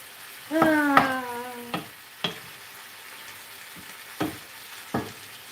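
Beef sautés in a pan for a Mexican lasagna casserole, a soft background sizzle broken by a brief squeaky tone at the start and a few sharp clatters of a utensil against the pan, with no talk.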